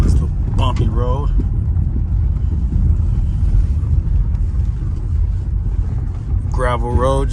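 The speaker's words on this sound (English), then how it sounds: "Gravel road just to hear the suspension." A 1985 Mercedes 500SEC rolls along a bumpy gravel road, steady low rumble of tires and suspension filling the cabin continuously, with brief bits of someone talking at the start and end.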